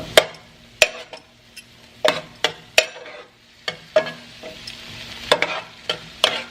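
Big chopped garlic cloves cooking in olive oil in a hot pan, a soft sizzle beneath repeated sharp clicks and scrapes of a utensil stirring against the pan, close and without any talking.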